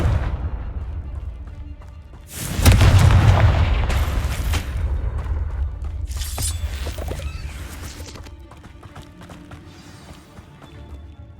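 Confringo fire spells explode in the Hogwarts Legacy video game, a loud burst hitting suddenly and then a rumbling, crackling blast that fades slowly, with more bangs following behind.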